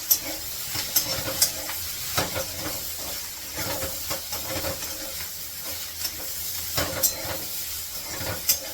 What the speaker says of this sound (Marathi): इथे थोडस तेल घातलं